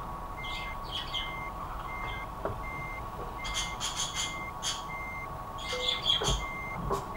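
A reversing truck in Euro Truck Simulator 2 emits steady, evenly spaced beeps while backing a large trailer into a parking spot, with a low engine drone underneath and bird chirps scattered around.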